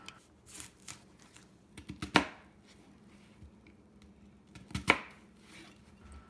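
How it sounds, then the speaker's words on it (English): A knife chops an onion into chunks for latkes on a cutting board, giving a few sharp, close knocks with two strong strikes, set among quieter handling sounds. "Cut the onion into chunks."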